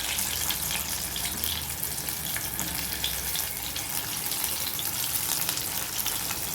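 Food frying in a pan to a crisp, part of a home-cooked non-vegetarian dish: a steady, loud, dense sizzle and crackle that runs continuously throughout with no talking.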